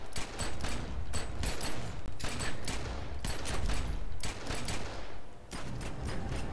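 Pistol fire in the video game The Secret World, with rapid bursts of sharp close shots in quick clusters separated by short gaps, loud and alone.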